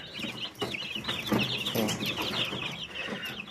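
Young Master Grey chickens cheep and cluck steadily up close, a busy cluster of high chirps and soft peeps without pause.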